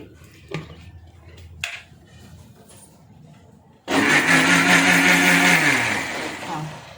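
Ghee and milk whir in a kitchen mixer for a while, starting abruptly after a few quiet knocks and running loud and steady with a pitch that sinks slightly as it churns.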